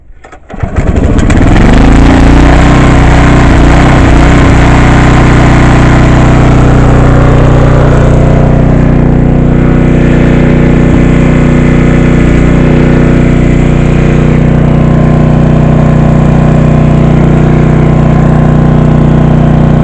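A 5500 watt generator cranks and catches, then settles into a loud, steady engine drone with a low hum that runs unbroken for the whole stretch, close to the listener.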